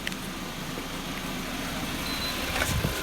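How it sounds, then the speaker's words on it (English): Suzuki SX4 air-conditioning compressor running with its clutch engaged, a steady, fairly quiet mechanical hum and whir from the engine bay, with a few brief clicks near the end and no talking. "The compressor's actually quietened right down."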